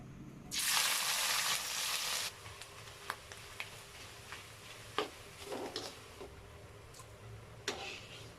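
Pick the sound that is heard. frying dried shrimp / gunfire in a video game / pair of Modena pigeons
frying dried shrimp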